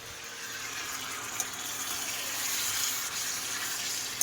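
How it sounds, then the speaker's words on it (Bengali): Water runs steadily from a tap for handwashing in a home kitchen, a continuous broadband gush with no talk over it. "হাত ধো হাত ধো।"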